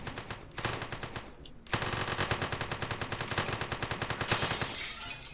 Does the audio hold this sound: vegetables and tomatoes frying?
no